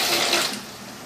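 Cold water running steadily from a tap to fill a foot spa, a brief continuous hissing gush that eases off slightly toward the end.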